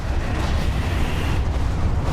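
A flare gun fired in the video game Alan Wake: a loud, dense, rumbling burst that roars steadily for a couple of seconds with no talk over it.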